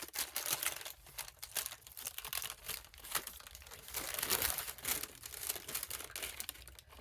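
Parchment paper being cut into a heart shape, a close, steady run of crinkling and rustling as the sheet is handled and snipped.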